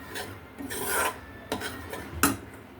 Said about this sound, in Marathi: मस्त असं तुपावरती खमंग रवा आणि बेसन आपल्याला भाजून घ्यायचं आहे